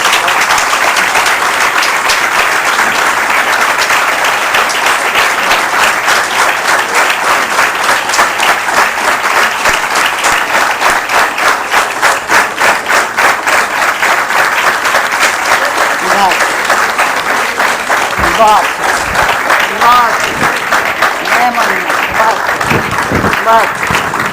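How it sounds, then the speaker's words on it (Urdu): Sustained audience applause with a standing ovation at an Urdu literature talk at the Karachi Literature Festival, dense steady clapping filling the hall without a break. "یہ تالیاں اور یوں کھڑے ہو جانا اس بات کا اظہار ہے"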